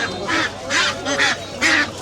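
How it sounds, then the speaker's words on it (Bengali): Peking ducks at a village market in Nawabganj, Bangladesh, give several loud, nasal honking quacks in uneven bursts close by, with market noise underneath. "এগুলো হচ্ছে বেজিং হাঁস।"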